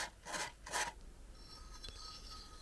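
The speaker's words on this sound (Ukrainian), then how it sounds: "Ось тут є края такі гострі, ми їх зараз наждачкою трішки підправимо." Sandpaper smooths the sharp edges of a cylinder liner for an R195 engine, two short close rasping strokes followed by fainter scraping and light handling noise, quiet overall, with no one talking.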